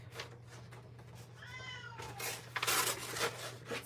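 A cat meows once in a clear, rising-and-falling tone midway, set against a quiet room with a low steady hum and scattered rustling and handling noises; no talking.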